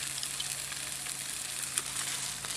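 Fish sizzles steadily in a skillet over a backyard campfire, a close, even crackle of frying with faint pops and no talking.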